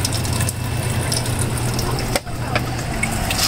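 Water runs steadily out of an Asahi air cooler under repair, a constant close trickling hiss over a low mechanical hum, with one brief dip midway.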